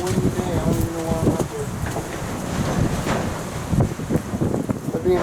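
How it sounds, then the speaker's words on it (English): Gusty wind buffets the microphone in low rumbling bursts, with someone talking throughout. "Here comes the wind, because it's a really windy day."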